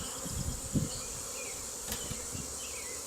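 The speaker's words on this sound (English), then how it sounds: "I couldn't very well do that with all the bees covering it." Dense, continuous buzzing of many honey bees covering an open hive during an inspection, a steady insect hum with a few soft knocks underneath.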